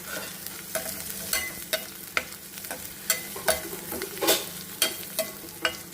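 Cut amaranth stem pieces frying in a hot pan while being stirred, with steady sizzling broken by repeated scraping and clacking strokes of a spatula at close range.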